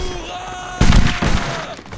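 Gunfire in a multiplayer skirmish game, a sudden loud burst of shots after a quiet stretch, followed by a second, smaller volley and fading echoes.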